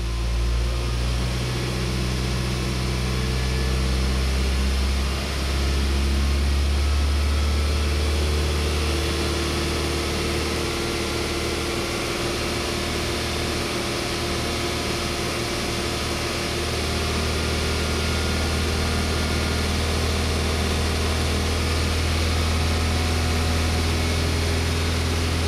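A car engine running steadily at raised speed, held near 2500 rpm during a lean-condition diagnosis, gives a continuous low drone with a brief swell near the start, loud and close with no talk.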